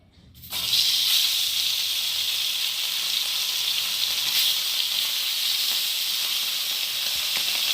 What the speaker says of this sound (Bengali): তো চলো এখন আমি একে একে মাছগুলোকে দিয়ে ভালো করে ভেজে নেব